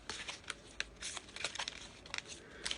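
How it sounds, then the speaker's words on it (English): Oversized tarot cards shuffled slowly and messily, giving soft irregular riffles and papery slaps close by, fairly quiet. "messy shuffle because these cards are ginormous."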